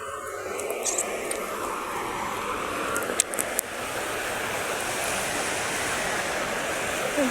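A river rushes steadily in a broad, continuous wash of flowing water, loud and unbroken, with a few faint sharp knocks briefly poking through midway.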